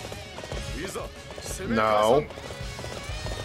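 Horse galloping in the Dynasty Warriors 8 Empires video game, a steady run of hoofbeats with a player talking over it and a brief swell of louder game sound in the middle.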